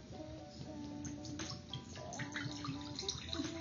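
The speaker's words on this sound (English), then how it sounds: "I'm gonna pour some vinegar." Apple cider vinegar poured into a container for a homemade hair mask, a continuous trickling, splashing stream of liquid with small drips, close and moderately loud, with no talking over it.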